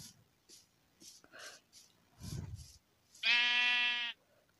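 Sheep in Minecraft bleat once loudly near the end, a single wavering call close up, preceded by scattered short soft clicks and muffled thuds.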